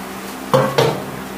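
A thick-bottomed steel cooking pot is shifted off a stove while making ginger curry, giving two short metallic clanks about a quarter second apart, close and fairly loud, with quiet around them.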